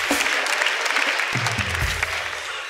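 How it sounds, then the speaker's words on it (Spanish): Audience applause in a Peruvian comedy show in Arequipa, a steady wash of clapping from a crowd with some low rumbling and a voice briefly breaking through near the end. "Un aplauso para Media Plancha."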